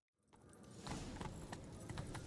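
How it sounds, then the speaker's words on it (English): A horse galloping in The Witcher 3 video game, with rapid hoofbeats rising out of silence and continuing steadily at a moderate level, close and with no talking. "Grab a horse, we'll chase him down."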